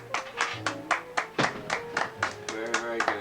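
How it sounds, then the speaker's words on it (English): A small audience on a cruise ship claps for the chefs after a cooking demonstration, separate distinct hand claps at a moderate pace with someone talking over them. "applaud the chefs"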